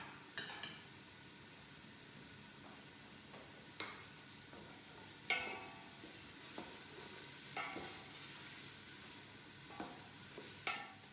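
Onions for tomato bisque soup cook in a pan with a soft, faint sizzle, broken every second or two by scraping stirs of a utensil against the pan.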